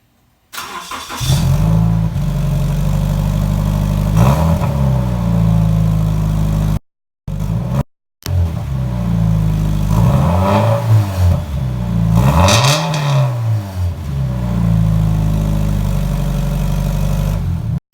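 Scion FR-S / Subaru BRZ boxer engine with aftermarket exhaust silencers fitted starting up, idling, then revving in several rising and falling pulls, loud and close with a brief cut partway through.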